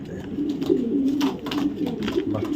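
A pair of young Dubas racing pigeons from racing parents gives continuous low, rolling coos at close range, the murmuring hum pulsing gently over a few seconds without any voices.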